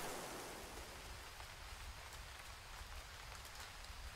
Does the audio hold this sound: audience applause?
no